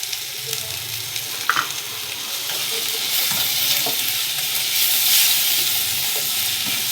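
Onion and tomato masala with salt and turmeric for a fish curry is stir-fried in a pan, giving a continuous hissing sizzle with a few spatula scrapes and clinks throughout.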